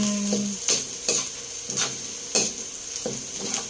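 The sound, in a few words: stirring garlic frying in a pan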